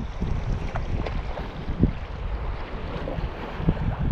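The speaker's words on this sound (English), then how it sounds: "some rocky waves for you." Choppy waves lapping around a canoe on a lake in the Boundary Waters, with steady wind buffeting the microphone and occasional splashes against the hull, continuous and fairly close.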